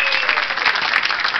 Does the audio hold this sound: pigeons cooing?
no